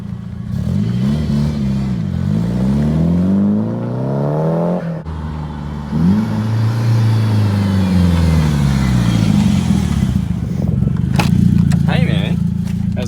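A 1997 Nissan 180SX engine revs up and down in loud, repeated sweeps as the car drives, rising and falling pitch throughout, with brief voices near the end.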